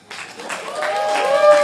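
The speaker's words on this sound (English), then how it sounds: "Just a round of applause." Applause from an audience at a Salute Your Shorts reunion panel, clapping swelling up after a brief silent start and holding steady, with a sustained tonal hum or whistle running through it.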